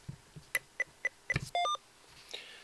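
A short series of electronic beeps from a Morse code paddle keyer, several quick tones followed by a longer one, fairly faint against a quiet background.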